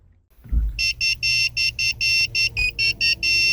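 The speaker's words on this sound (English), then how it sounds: "After 10 minutes, you'll hear a beeping tone, which means that the key chip programming was successful." A repeated electronic beeping tone from a key programming tool on a Ford Focus, a steady series of about a dozen short high beeps ending in a longer held tone, clear and close.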